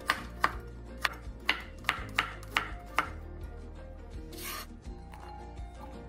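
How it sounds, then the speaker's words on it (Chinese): Garlic cloves being chopped finely with a knife on a board for homemade tom yam paste: a run of sharp, evenly spaced close chops, then softer scraping and rubbing sounds. "40克蒜瓣，一样切细。"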